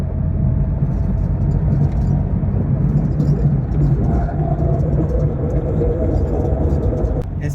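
A Suzuki Mehran with a faulty wheel bearing drives at about 40 to 60 km/h, giving a steady rumbling whir inside the car that runs continuously under road noise.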